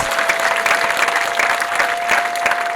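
A church congregation claps together, a dense, steady burst of applause filling the hall at close range for a few seconds.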